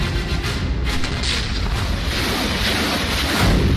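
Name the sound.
explosion in Russia-Ukraine war news footage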